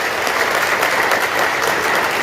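Audience at a Bihar Day poetry gathering and mushaira claps steadily in a dense, even burst of applause that fills the hall from start to finish.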